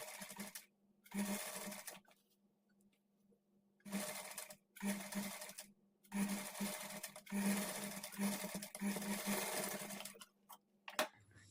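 Sewing machine stitching piping onto a blouse neck, running in several bursts of rapid mechanical chatter a few seconds long, separated by short pauses, close and clear.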